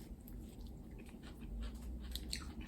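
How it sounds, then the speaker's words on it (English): Crunchy lettuce from a Chipotle meal being chewed close to the mouth, a quiet run of crisp, moist crunches and bites with no talking. "The lettuce is so crunchy."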